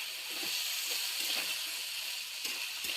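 Banana blossom frying in a pan, a continuous bright sizzle and hiss with a few soft scraping stirs cutting through it, close and steady throughout.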